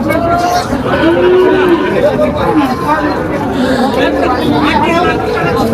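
A cow moos with drawn-out calls, nearby, over a steady murmur of people chatting in a busy outdoor crowd at a cattle market.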